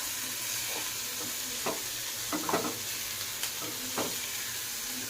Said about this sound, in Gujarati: હવે આપણે એને હલાવીશું ગેસ ધીમો કરી દેવાનો